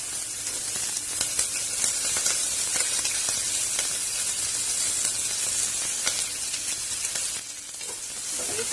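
Garlic, onion, green chili and curry leaves hitting hot oil with coriander and cumin seeds, a loud, steady, close sizzle with occasional crackles and spatters running throughout.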